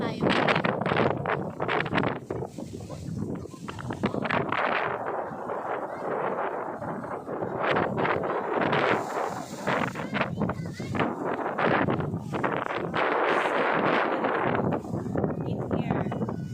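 Strong wind buffets the microphone at Nambalan Beach in Burgos, Pangasinan, with loud gusts rising and falling, and a person speaks over the roaring wind.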